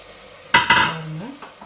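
Tomatoes stirred as they fry in oil for egg biryani: two quick scraping stirs up close, then a steady soft sizzle with faint utensil touches.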